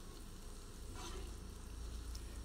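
Sardine curry made from tinned sardines bubbling quietly in a pot, a faint steady simmering hiss with soft low burbling, no voices.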